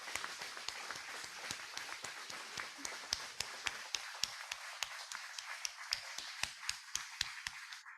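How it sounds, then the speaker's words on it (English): An audience claps at an award ceremony for past recipients, a thin, fairly distant ripple of applause with individual claps audible, thinning toward the end. "let's all give a huge round of applause and of appreciation for our past"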